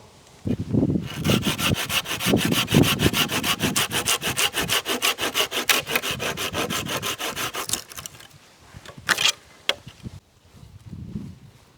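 A hand saw cuts through a wooden tripod pole at a campsite with steady, rapid back-and-forth strokes for about eight seconds. A few scraping rubs and knocks follow as the pole comes free.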